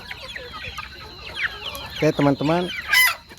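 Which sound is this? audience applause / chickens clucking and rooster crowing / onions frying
chickens clucking and rooster crowing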